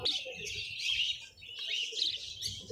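Many small caged birds chirp and tweet densely and continuously at the Mirpur 1 bird market, a bustling open-air pet bird bazaar, with a low murmur of crowd noise underneath.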